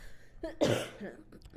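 A single sharp cough, close and abrupt, preceded by a brief throat sound.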